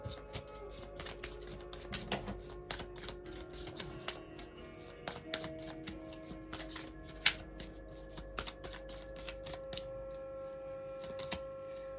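Tarot cards shuffled over and over for a reading, a dense run of quick papery riffles and taps at close range, continuing steadily for the whole stretch with faint background hum.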